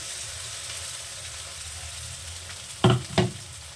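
A quiet, steady sizzle of spice masala in a pan for matar kachori, broken near the end by two heavy plops as green pea paste drops in.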